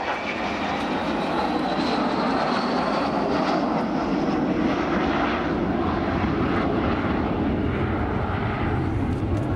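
Avro Vulcan XH558 delta-wing jet bomber flying past at an air display, a loud continuous jet engine roar with a broad rushing hiss that swells slightly and holds steady throughout.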